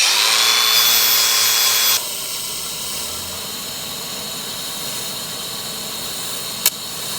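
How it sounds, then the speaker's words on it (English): Welding a custom bash bar on a Nissan 240SX, a loud steady hiss and buzz that stops abruptly after two seconds, followed by a quieter hum and one brief sharp click. "This will be the most comfortable I've been welding all day."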